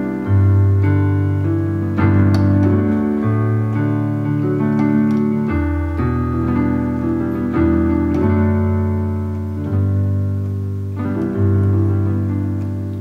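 Sustained piano chords with a deep bass line underneath, changing steadily every couple of beats, full and loud.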